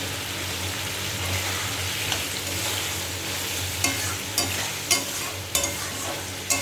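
Small fish curry fries with slit green chillies in a pan, a dense, steady sizzle running throughout while a few sharp stirring scrapes land near the end, close up and without talk.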